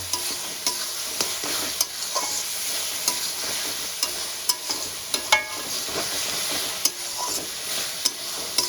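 Ginger garlic paste and spices stir-fry for chicken with a loud, constant sizzle up close. Brisk ladle scrapes and taps against the pan recur throughout.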